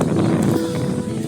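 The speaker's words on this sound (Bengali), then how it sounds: "বাতাস ছেড়েছে, মনে হয় বৃষ্টি আসতে পারে।" Wind gusts across open village fields ahead of rain, a steady broadband rush with low rumble close to the microphone, continuous and fairly loud throughout.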